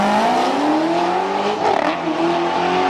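A voice imitates the engine of a Chevrolet Corvette C6 ZR1, holding a loud, continuous rising rev that shifts pitch midway through a three-second burst, like a race car accelerating.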